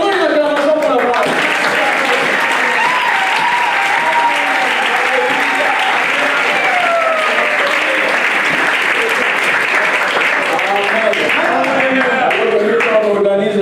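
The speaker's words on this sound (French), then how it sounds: "Donnons une acclamation pour la parole." A church congregation gives a long, loud ovation during a French sermon, with dense clapping and crowd noise running steadily throughout and voices cheering and calling out beneath it.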